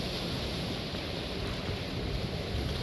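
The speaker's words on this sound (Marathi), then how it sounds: "आणि बघा अशा लाटा किती छान मस्त मस्त" Waves roll onto a Maldives beach at dusk in a continuous broadband wash of surf, steady and fairly loud with possible wind noise and no speech.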